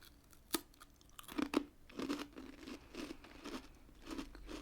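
Thin crisp biscuit crunched in close-up, several sharp crisp bites and chews in an uneven rhythm, clear and near with no talking.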